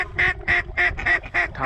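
A flock of ducks passing overhead during a North Dakota duck hunt, giving five or six loud, evenly spaced nasal quacks or honks in quick succession, close and clear with no talking.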